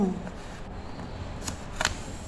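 A sheet of paper being folded edge to edge and pressed flat into a crease while making an origami bird, with a soft rustle and two brief, crisp crackles of pressing near the end.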